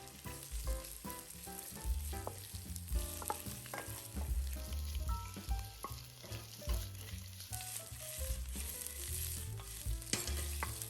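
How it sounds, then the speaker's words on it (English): Shrimp fry in oil in a hot wok with a loud, steady sizzle, close and constant for the whole stretch. "Now add some oil into a hot wok. Then add the shrimp and cook it."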